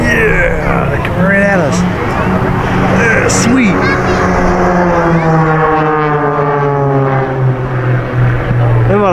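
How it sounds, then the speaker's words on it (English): Loud propeller aircraft, Black Sheep Squadron planes at an air show, drone overhead with rising and falling engine tones, passing close; people talk and exclaim beneath the roar. "The Black Sheep Squadron planes."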